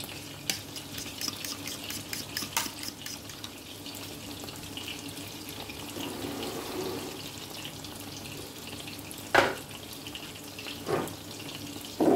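Liquid pours steadily into a pan of sliced tomatoes being fried, a continuous close watery splash and sizzle with a few sharper clinks, no talk.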